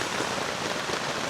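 Rain falling on a tent during a windy downpour, a steady dense patter of drops hissing evenly across the fabric, close and continuous with no breaks.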